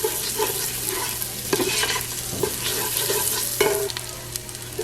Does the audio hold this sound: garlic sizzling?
yes